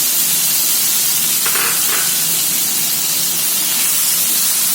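Chopped tomato hits a hot pan of sautéed onions for an aloo soya sabji, producing a loud, steady, close hiss of sizzling that holds evenly throughout, without talk.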